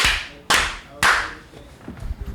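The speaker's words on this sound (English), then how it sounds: "it even captured the claps this time" Three sharp hand claps ring out at even half-second intervals, each with a short reverberant tail, followed by faint softer taps.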